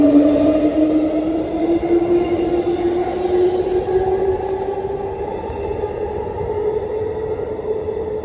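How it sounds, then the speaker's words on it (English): Train pulling into the newly opened Bayswater station on the Midland line, a loud steady rumble with a rising whine that slowly climbs in pitch over several seconds, close by and continuous with no talking. "The second train coming in"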